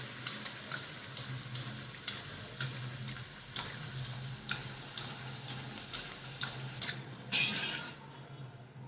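A spiced pearl millet flour puri fries in hot oil while oil is splashed over it, a steady close sizzle with rhythmic ladle taps and scrapes, no voices.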